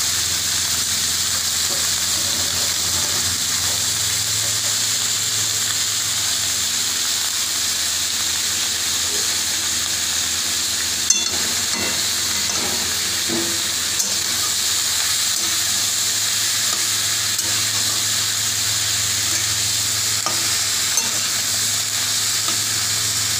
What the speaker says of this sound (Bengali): পেঁয়াজগুলো ঢাকা দিয়ে দিয়ে ভাজা হতে থাক